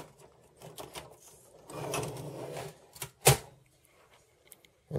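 Parts being disconnected inside a 1989 Zenith supersPORT laptop during a teardown: close plastic scrapes and fumbling, then a sharp snap as a connector pulls free, followed by faint clicks.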